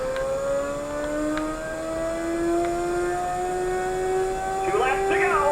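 Race car engines from an emulated racing video game whine with rising pitch as the cars accelerate, steady and fairly loud, with a squeal of spinning wheels near the end.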